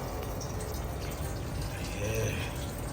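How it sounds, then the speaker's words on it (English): A freshly fitted sink tap in a camper van runs water in a steady, continuous hiss-like flow that stays at an even, moderate level for the whole stretch, with no talking. "Yep, I've got running water."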